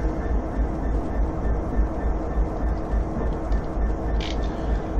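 Steady low rumble of a train rolling slowly up a spur on the Suburban Glasgow Airdrie route extension in Train Simulator, a continuous dense drone with faint clatter, close and even throughout, no voices.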